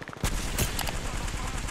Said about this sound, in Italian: Sto letteralmente sparando a qualcosa